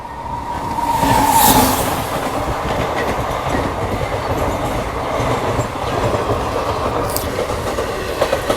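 A New Delhi–Gaya Special passenger train with ICF coaches rolling past on the adjacent track, a loud, steady rumble with clickety-clack and a brief wheel squeal, heard close from a halted train.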